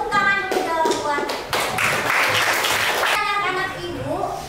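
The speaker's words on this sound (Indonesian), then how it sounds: "Tepuk tangan dulu dong buat" Classroom students clap their hands in applause, a burst of many hands that swells and then fades, with a voice talking over the start and the end.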